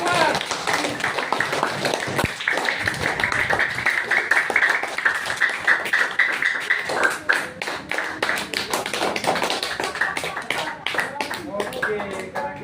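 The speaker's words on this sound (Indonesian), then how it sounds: "Tepuk tangan untuk kita semua." Classroom applause at the end of a lesson, quick irregular clapping from students mixed with tapping and a teacher's voice, steady for several seconds then thinning out.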